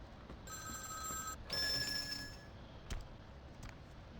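A telephone bell rings in Vampire: The Masquerade - Bloodlines, two bright electronic trills in quick succession over a quiet game backdrop, followed by faint knocks.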